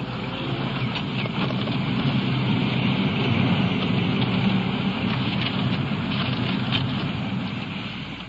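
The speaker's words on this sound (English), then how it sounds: "the possibility of rain I mentioned earlier is here now. In fact, it's coming down pretty hard." Heavy rain pours down steadily on a late-evening night, a dense continuous hiss that swells slightly mid-clip and eases toward the end, with no voices.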